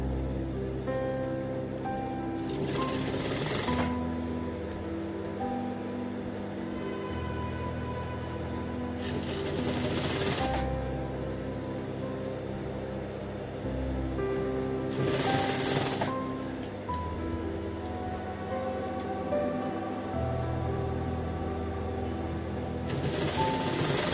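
A sewing machine stitches the hem along the bottom of a women's garment, running in steady mechanical bursts with short pauses between runs over about twenty-four seconds, close and fairly loud, with no talk.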